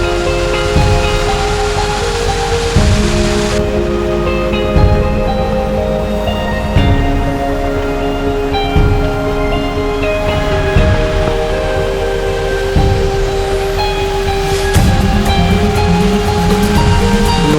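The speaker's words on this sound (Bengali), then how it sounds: "এই ওপর থেকে ঝর্ণাটা পড়ছে," A waterfall in a rock garden near Darjeeling pours down from above in a loud, constant, broadband rush that runs throughout. Faint tonal sounds sit beneath it.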